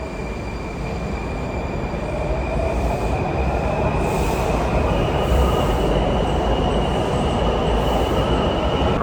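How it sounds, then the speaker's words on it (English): A metro train on the yellow line runs steadily and loud throughout, with a broad rumble of wheels on rails and a faint high squeal rising over it, no talk. "I'm waiting for my train on the yellow line."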